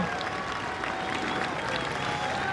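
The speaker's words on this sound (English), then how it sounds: "here comes the Bath quad, and they're getting rightly applauded by the stewards" Stewards applaud the Bath University quad sculls crew as it finishes its Princess Grace race against Hollandia Rowing Club at Henley 2025: steady, dense clapping blended with outdoor crowd noise, with faint voices underneath throughout.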